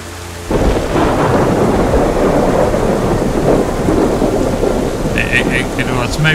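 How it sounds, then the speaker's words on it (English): Thunder rolls through a heavy rainstorm in the video game DayZ, bursting in abruptly after a quiet moment and rumbling loudly over steady rain, with a few brief tonal chirps near the end. "I think it was just the thunder."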